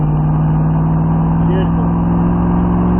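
An AC Cobra engine pulls hard on a race track, a loud, steady mid-pitched drone holding throughout with a faint rising whine, while a driver talks over it.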